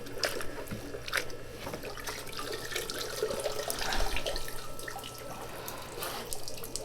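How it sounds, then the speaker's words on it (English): Green Mound juniper root ball being jiggled in a container of water to loosen soil, giving irregular sloshing, splashing and trickling with occasional drips, moderately close and without talk. "now we'll put the tree in water and let's jiggle it around to get most of that soil off the root base"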